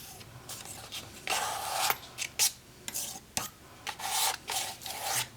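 Green and yellow paint is scraped over gesso on a page in short rasping strokes, dry and close, repeated in irregular bursts with brief pauses.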